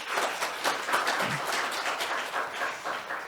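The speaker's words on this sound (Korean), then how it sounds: "다시 한번 박수 부탁드립니다." Audience applause at a corporate forum session in Korea, a steady dense patter of many hands clapping, fairly loud and continuous without a voice over it.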